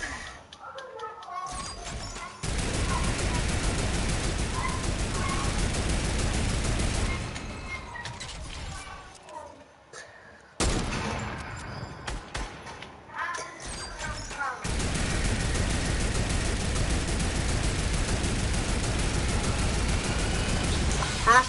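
Turret gunfire in the Fortnite video game, with dense bursts of rapid shots and thuds running for long stretches, broken by brief pauses.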